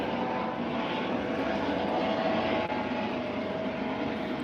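A rescue helicopter, an air ambulance, passes overhead with a steady, loud rotor-and-engine drone that holds an even level for the whole stretch.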